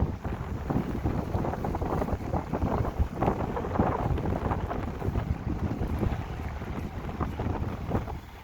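Strong wind near the Mississippi River roars steadily into the microphone, a loud continuous buffeting rumble with gusty surges throughout, no voices present.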